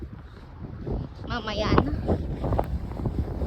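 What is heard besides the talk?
strong wind blowing at Niagara Falls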